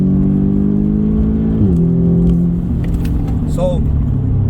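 An Audi S3 Saloon with a Stage 1 tune accelerates, its engine droning steadily from inside the cabin, the pitch dipping briefly at a gear change and then holding at a strong, continuous level.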